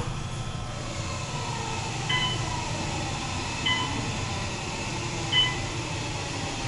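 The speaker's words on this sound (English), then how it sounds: "I love that motor. This is by far one of the best motor sound I've ever heard." Steady low mechanical hum of an Otis Gen2 high-speed elevator hoist motor running in a hotel, with three faint beeps sounding at intervals above the drone.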